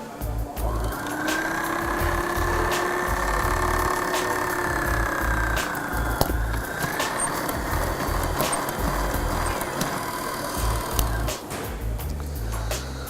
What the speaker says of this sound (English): I'm going to drill through the tilt rod attachment and the tilt rod itself